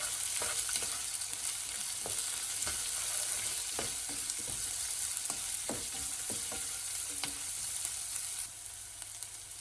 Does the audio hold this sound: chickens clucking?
no